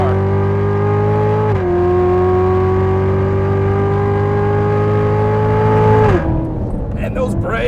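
A 2015 Chevrolet Corvette Z06 on a track roars with a loud, sustained engine note, climbing steadily before a brief gear change and a renewed pull, heard from inside the car.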